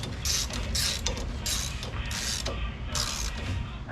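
A wrench snugging bolts on a Wilwood rear disc brake and axle of a 1969 B-body car, giving quick repeated creaking, clicking strokes in bursts, close and fairly quiet, with no talk.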